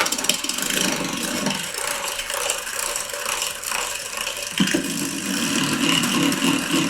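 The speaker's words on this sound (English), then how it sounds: "I quickly will mix the sugar with egg yolks with an electric whisker" An electric whisk mixes sugar with egg yolks in a bowl, a loud continuous whirring buzz with rattling, grinding texture that runs throughout and shifts briefly near the end.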